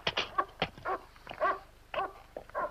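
A dog whines and whimpers close by in a string of short, high, pleading cries and yips, fairly loud and with no talk over them, in a scene from the 1972 horror film Tales From The Crypt.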